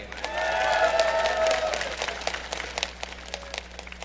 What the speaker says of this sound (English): And rounding out the 5-man team at AD carry, give it up for Prey!